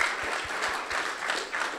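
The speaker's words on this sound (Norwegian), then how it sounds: "gi dem en klapp." Audience applause breaks out for a man's parents seated in the crowd, a steady dense clapping wash that holds at even loudness throughout, with no speech over it.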